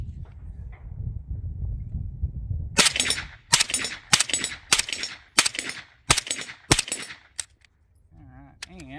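A PTR 9CT pistol fires supersonic 9mm rounds on an outdoor range. After a quiet start come seven or eight sharp, loud shots at a steady pace, with a few faint clinks at the end.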